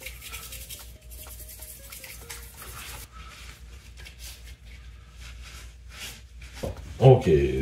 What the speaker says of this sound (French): petite brosse à dents, tout nettoyer